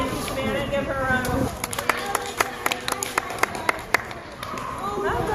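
Children on a farm-to-table field trip at the Hamburg Fairground break into a round of applause, a scattered patter of claps in the middle of the clip with background voices and outdoor noise around it.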